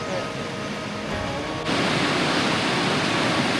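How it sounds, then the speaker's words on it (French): The Modi Khola river rushes down from the Annapurna Sanctuary in a Nepal valley, a dense, steady roar of fast water that swells noticeably louder partway through, with no voices. "Alors là la rivière elle s'appelle la Modicola."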